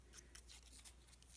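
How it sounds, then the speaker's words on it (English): Scissors snip quietly around paper flower petals to round them, several small soft cuts in quick irregular succession, close and faint with no talking. "You can also take your scissors and round the petals like this"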